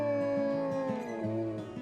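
A wolf kept deep in the mountains howls in a long, wavering, tonal cry that bends up and down in pitch, loud and close, with no talking.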